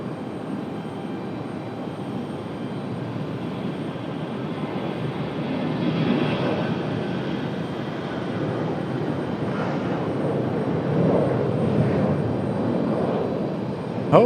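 Delta flight 2699, an airliner departing Raleigh Durham International, gives a sustained distant jet engine roar that swells gradually and stays steady for the whole stretch with no voices.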